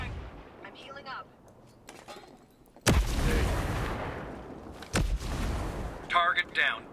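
In Ghost Recon Breakpoint, a frag grenade goes off in a heavy, booming blast with a long rumbling tail, then a second loud detonation or burst of gunfire, while a voice talks over the combat.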